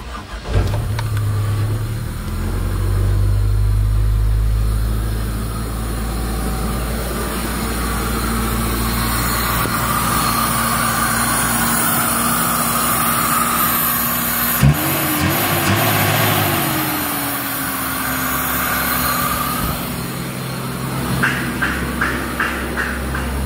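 A Toyota Revo with a 7K engine, repaired after its wiring and engine were damaged by fire, runs at first. It then cranks and catches in a sudden start and settles into a steady, close idle that continues to the end.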